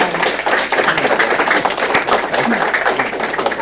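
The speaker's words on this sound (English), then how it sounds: "let's give Lansdale Borough a round of applause" Applause from a gathered audience at a county board of commissioners meeting, a steady wash of clapping lasting several seconds with no pause.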